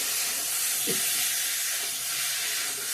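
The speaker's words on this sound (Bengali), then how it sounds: "এখন জল অ্যাড করে দিয়ে দেবো মশলার সঙ্গে" Water hits a hot pan of fried spices for a potato, tomato and eggplant curry, giving a loud, steady steam hiss with a brief sizzling burst near the start.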